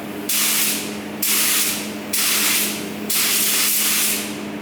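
Four long bursts of aerosol spray clear coat, evenly spaced and close, each a loud steady hiss over a faint background hum.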